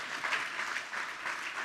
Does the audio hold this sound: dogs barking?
no